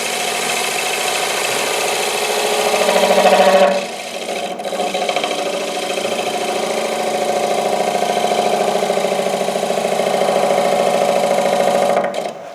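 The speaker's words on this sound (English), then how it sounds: "Lathe is moving" A wood lathe spins a bowl blank with wormholes, giving a continuous steady motor whine and hum with a slight rise and dip partway through, close and without speech.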